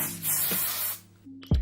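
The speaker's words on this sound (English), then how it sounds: "I'm using my Got To Be Glued hairspray." Got To Be Glued hairspray hisses from an aerosol can in one close burst of about a second. A faint knock and rustle follow.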